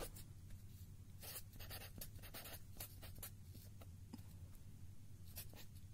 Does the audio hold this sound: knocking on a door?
no